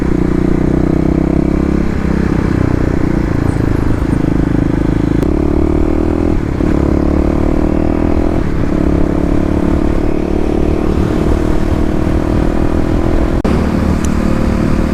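Kawasaki KLX351 dual-sport motorcycle being ridden during break-in, its single-cylinder engine droning loud and close with shifting pitch, repeated gear changes and throttle swells, and rattly clatter underneath, no talking.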